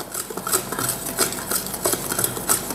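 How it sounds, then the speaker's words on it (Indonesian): A spoon stirs a mixture of butter, sugar and yeast in a bowl, scraping and clinking repeatedly in a steady rhythm, close and fairly quiet. "Terus ini kita aduk."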